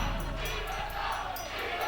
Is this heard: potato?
no